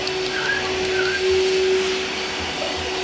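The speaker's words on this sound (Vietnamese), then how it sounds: "Hôm nay ba quét nhà bằng máy hút khô các con" A vacuum cleaner sweeping the floors of a house runs with a steady, loud whooshing drone through the whole stretch, with no voices.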